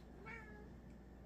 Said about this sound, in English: My kitty is saying it's supper time